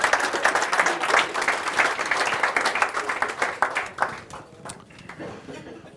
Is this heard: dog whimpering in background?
no